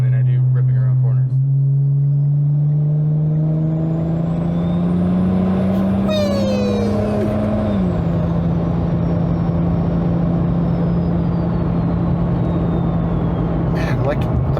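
A single-turbo N54 BMW 335i with an 8HP gearbox swap accelerates hard, its engine drone climbing steadily in pitch before a shift, with a rising turbo whistle over the rumble.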